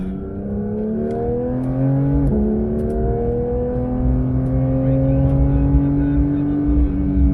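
A Porsche 911 992 GT3 flat-six on track at Sepang is heard from inside, its loud engine note dropping sharply with a downshift, then climbing steadily again under acceleration.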